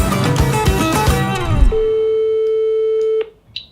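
Telephone call to a seller: a steady ringback tone holds for about a second and a half after some brief noise and voices, then stops abruptly, followed by a faint short tone.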